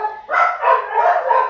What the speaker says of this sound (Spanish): justo ladraron los perros